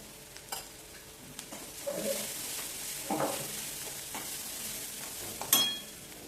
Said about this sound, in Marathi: मिरचीचा ठेचा कांद्यामध्ये परतून घेऊया मिरची छान परतून झालेली आहे त्यामध्ये आता टाकायची हळद